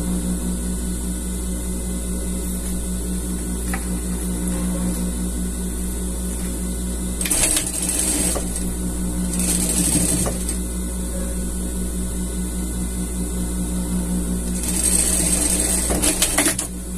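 A sewing machine stitches a folded pocket hem on a costume, running as a faint steady whir under constant background hum, with a few louder rattling bursts partway through and near the end.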